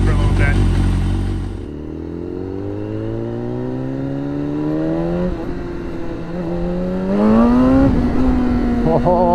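BMW S1000RR sport bike engine revving up near the start, then settling into a steady idle that climbs gradually as it warms, with a brief rev blip later; close and loud, with some talk over it.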